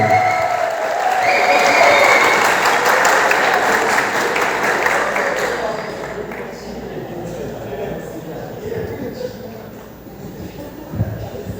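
A university talk show audience applauds a guest, loud clapping that swells early then gradually fades, with voices and shuffling carrying on underneath as it dies away.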